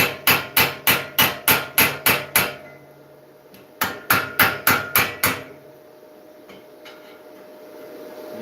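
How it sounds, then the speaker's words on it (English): A chisel is struck against rusty metal on a 73 Superglide motorcycle, giving two runs of sharp, evenly spaced ringing hammer blows close by, about eight and then six strikes, with quieter scraping between and after. "Chisel out."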